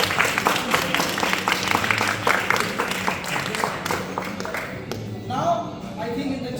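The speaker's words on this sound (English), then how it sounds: "A big round of applause for them." Audience applause at a board game tournament, dense clapping for about four seconds that thins into scattered claps with some voices.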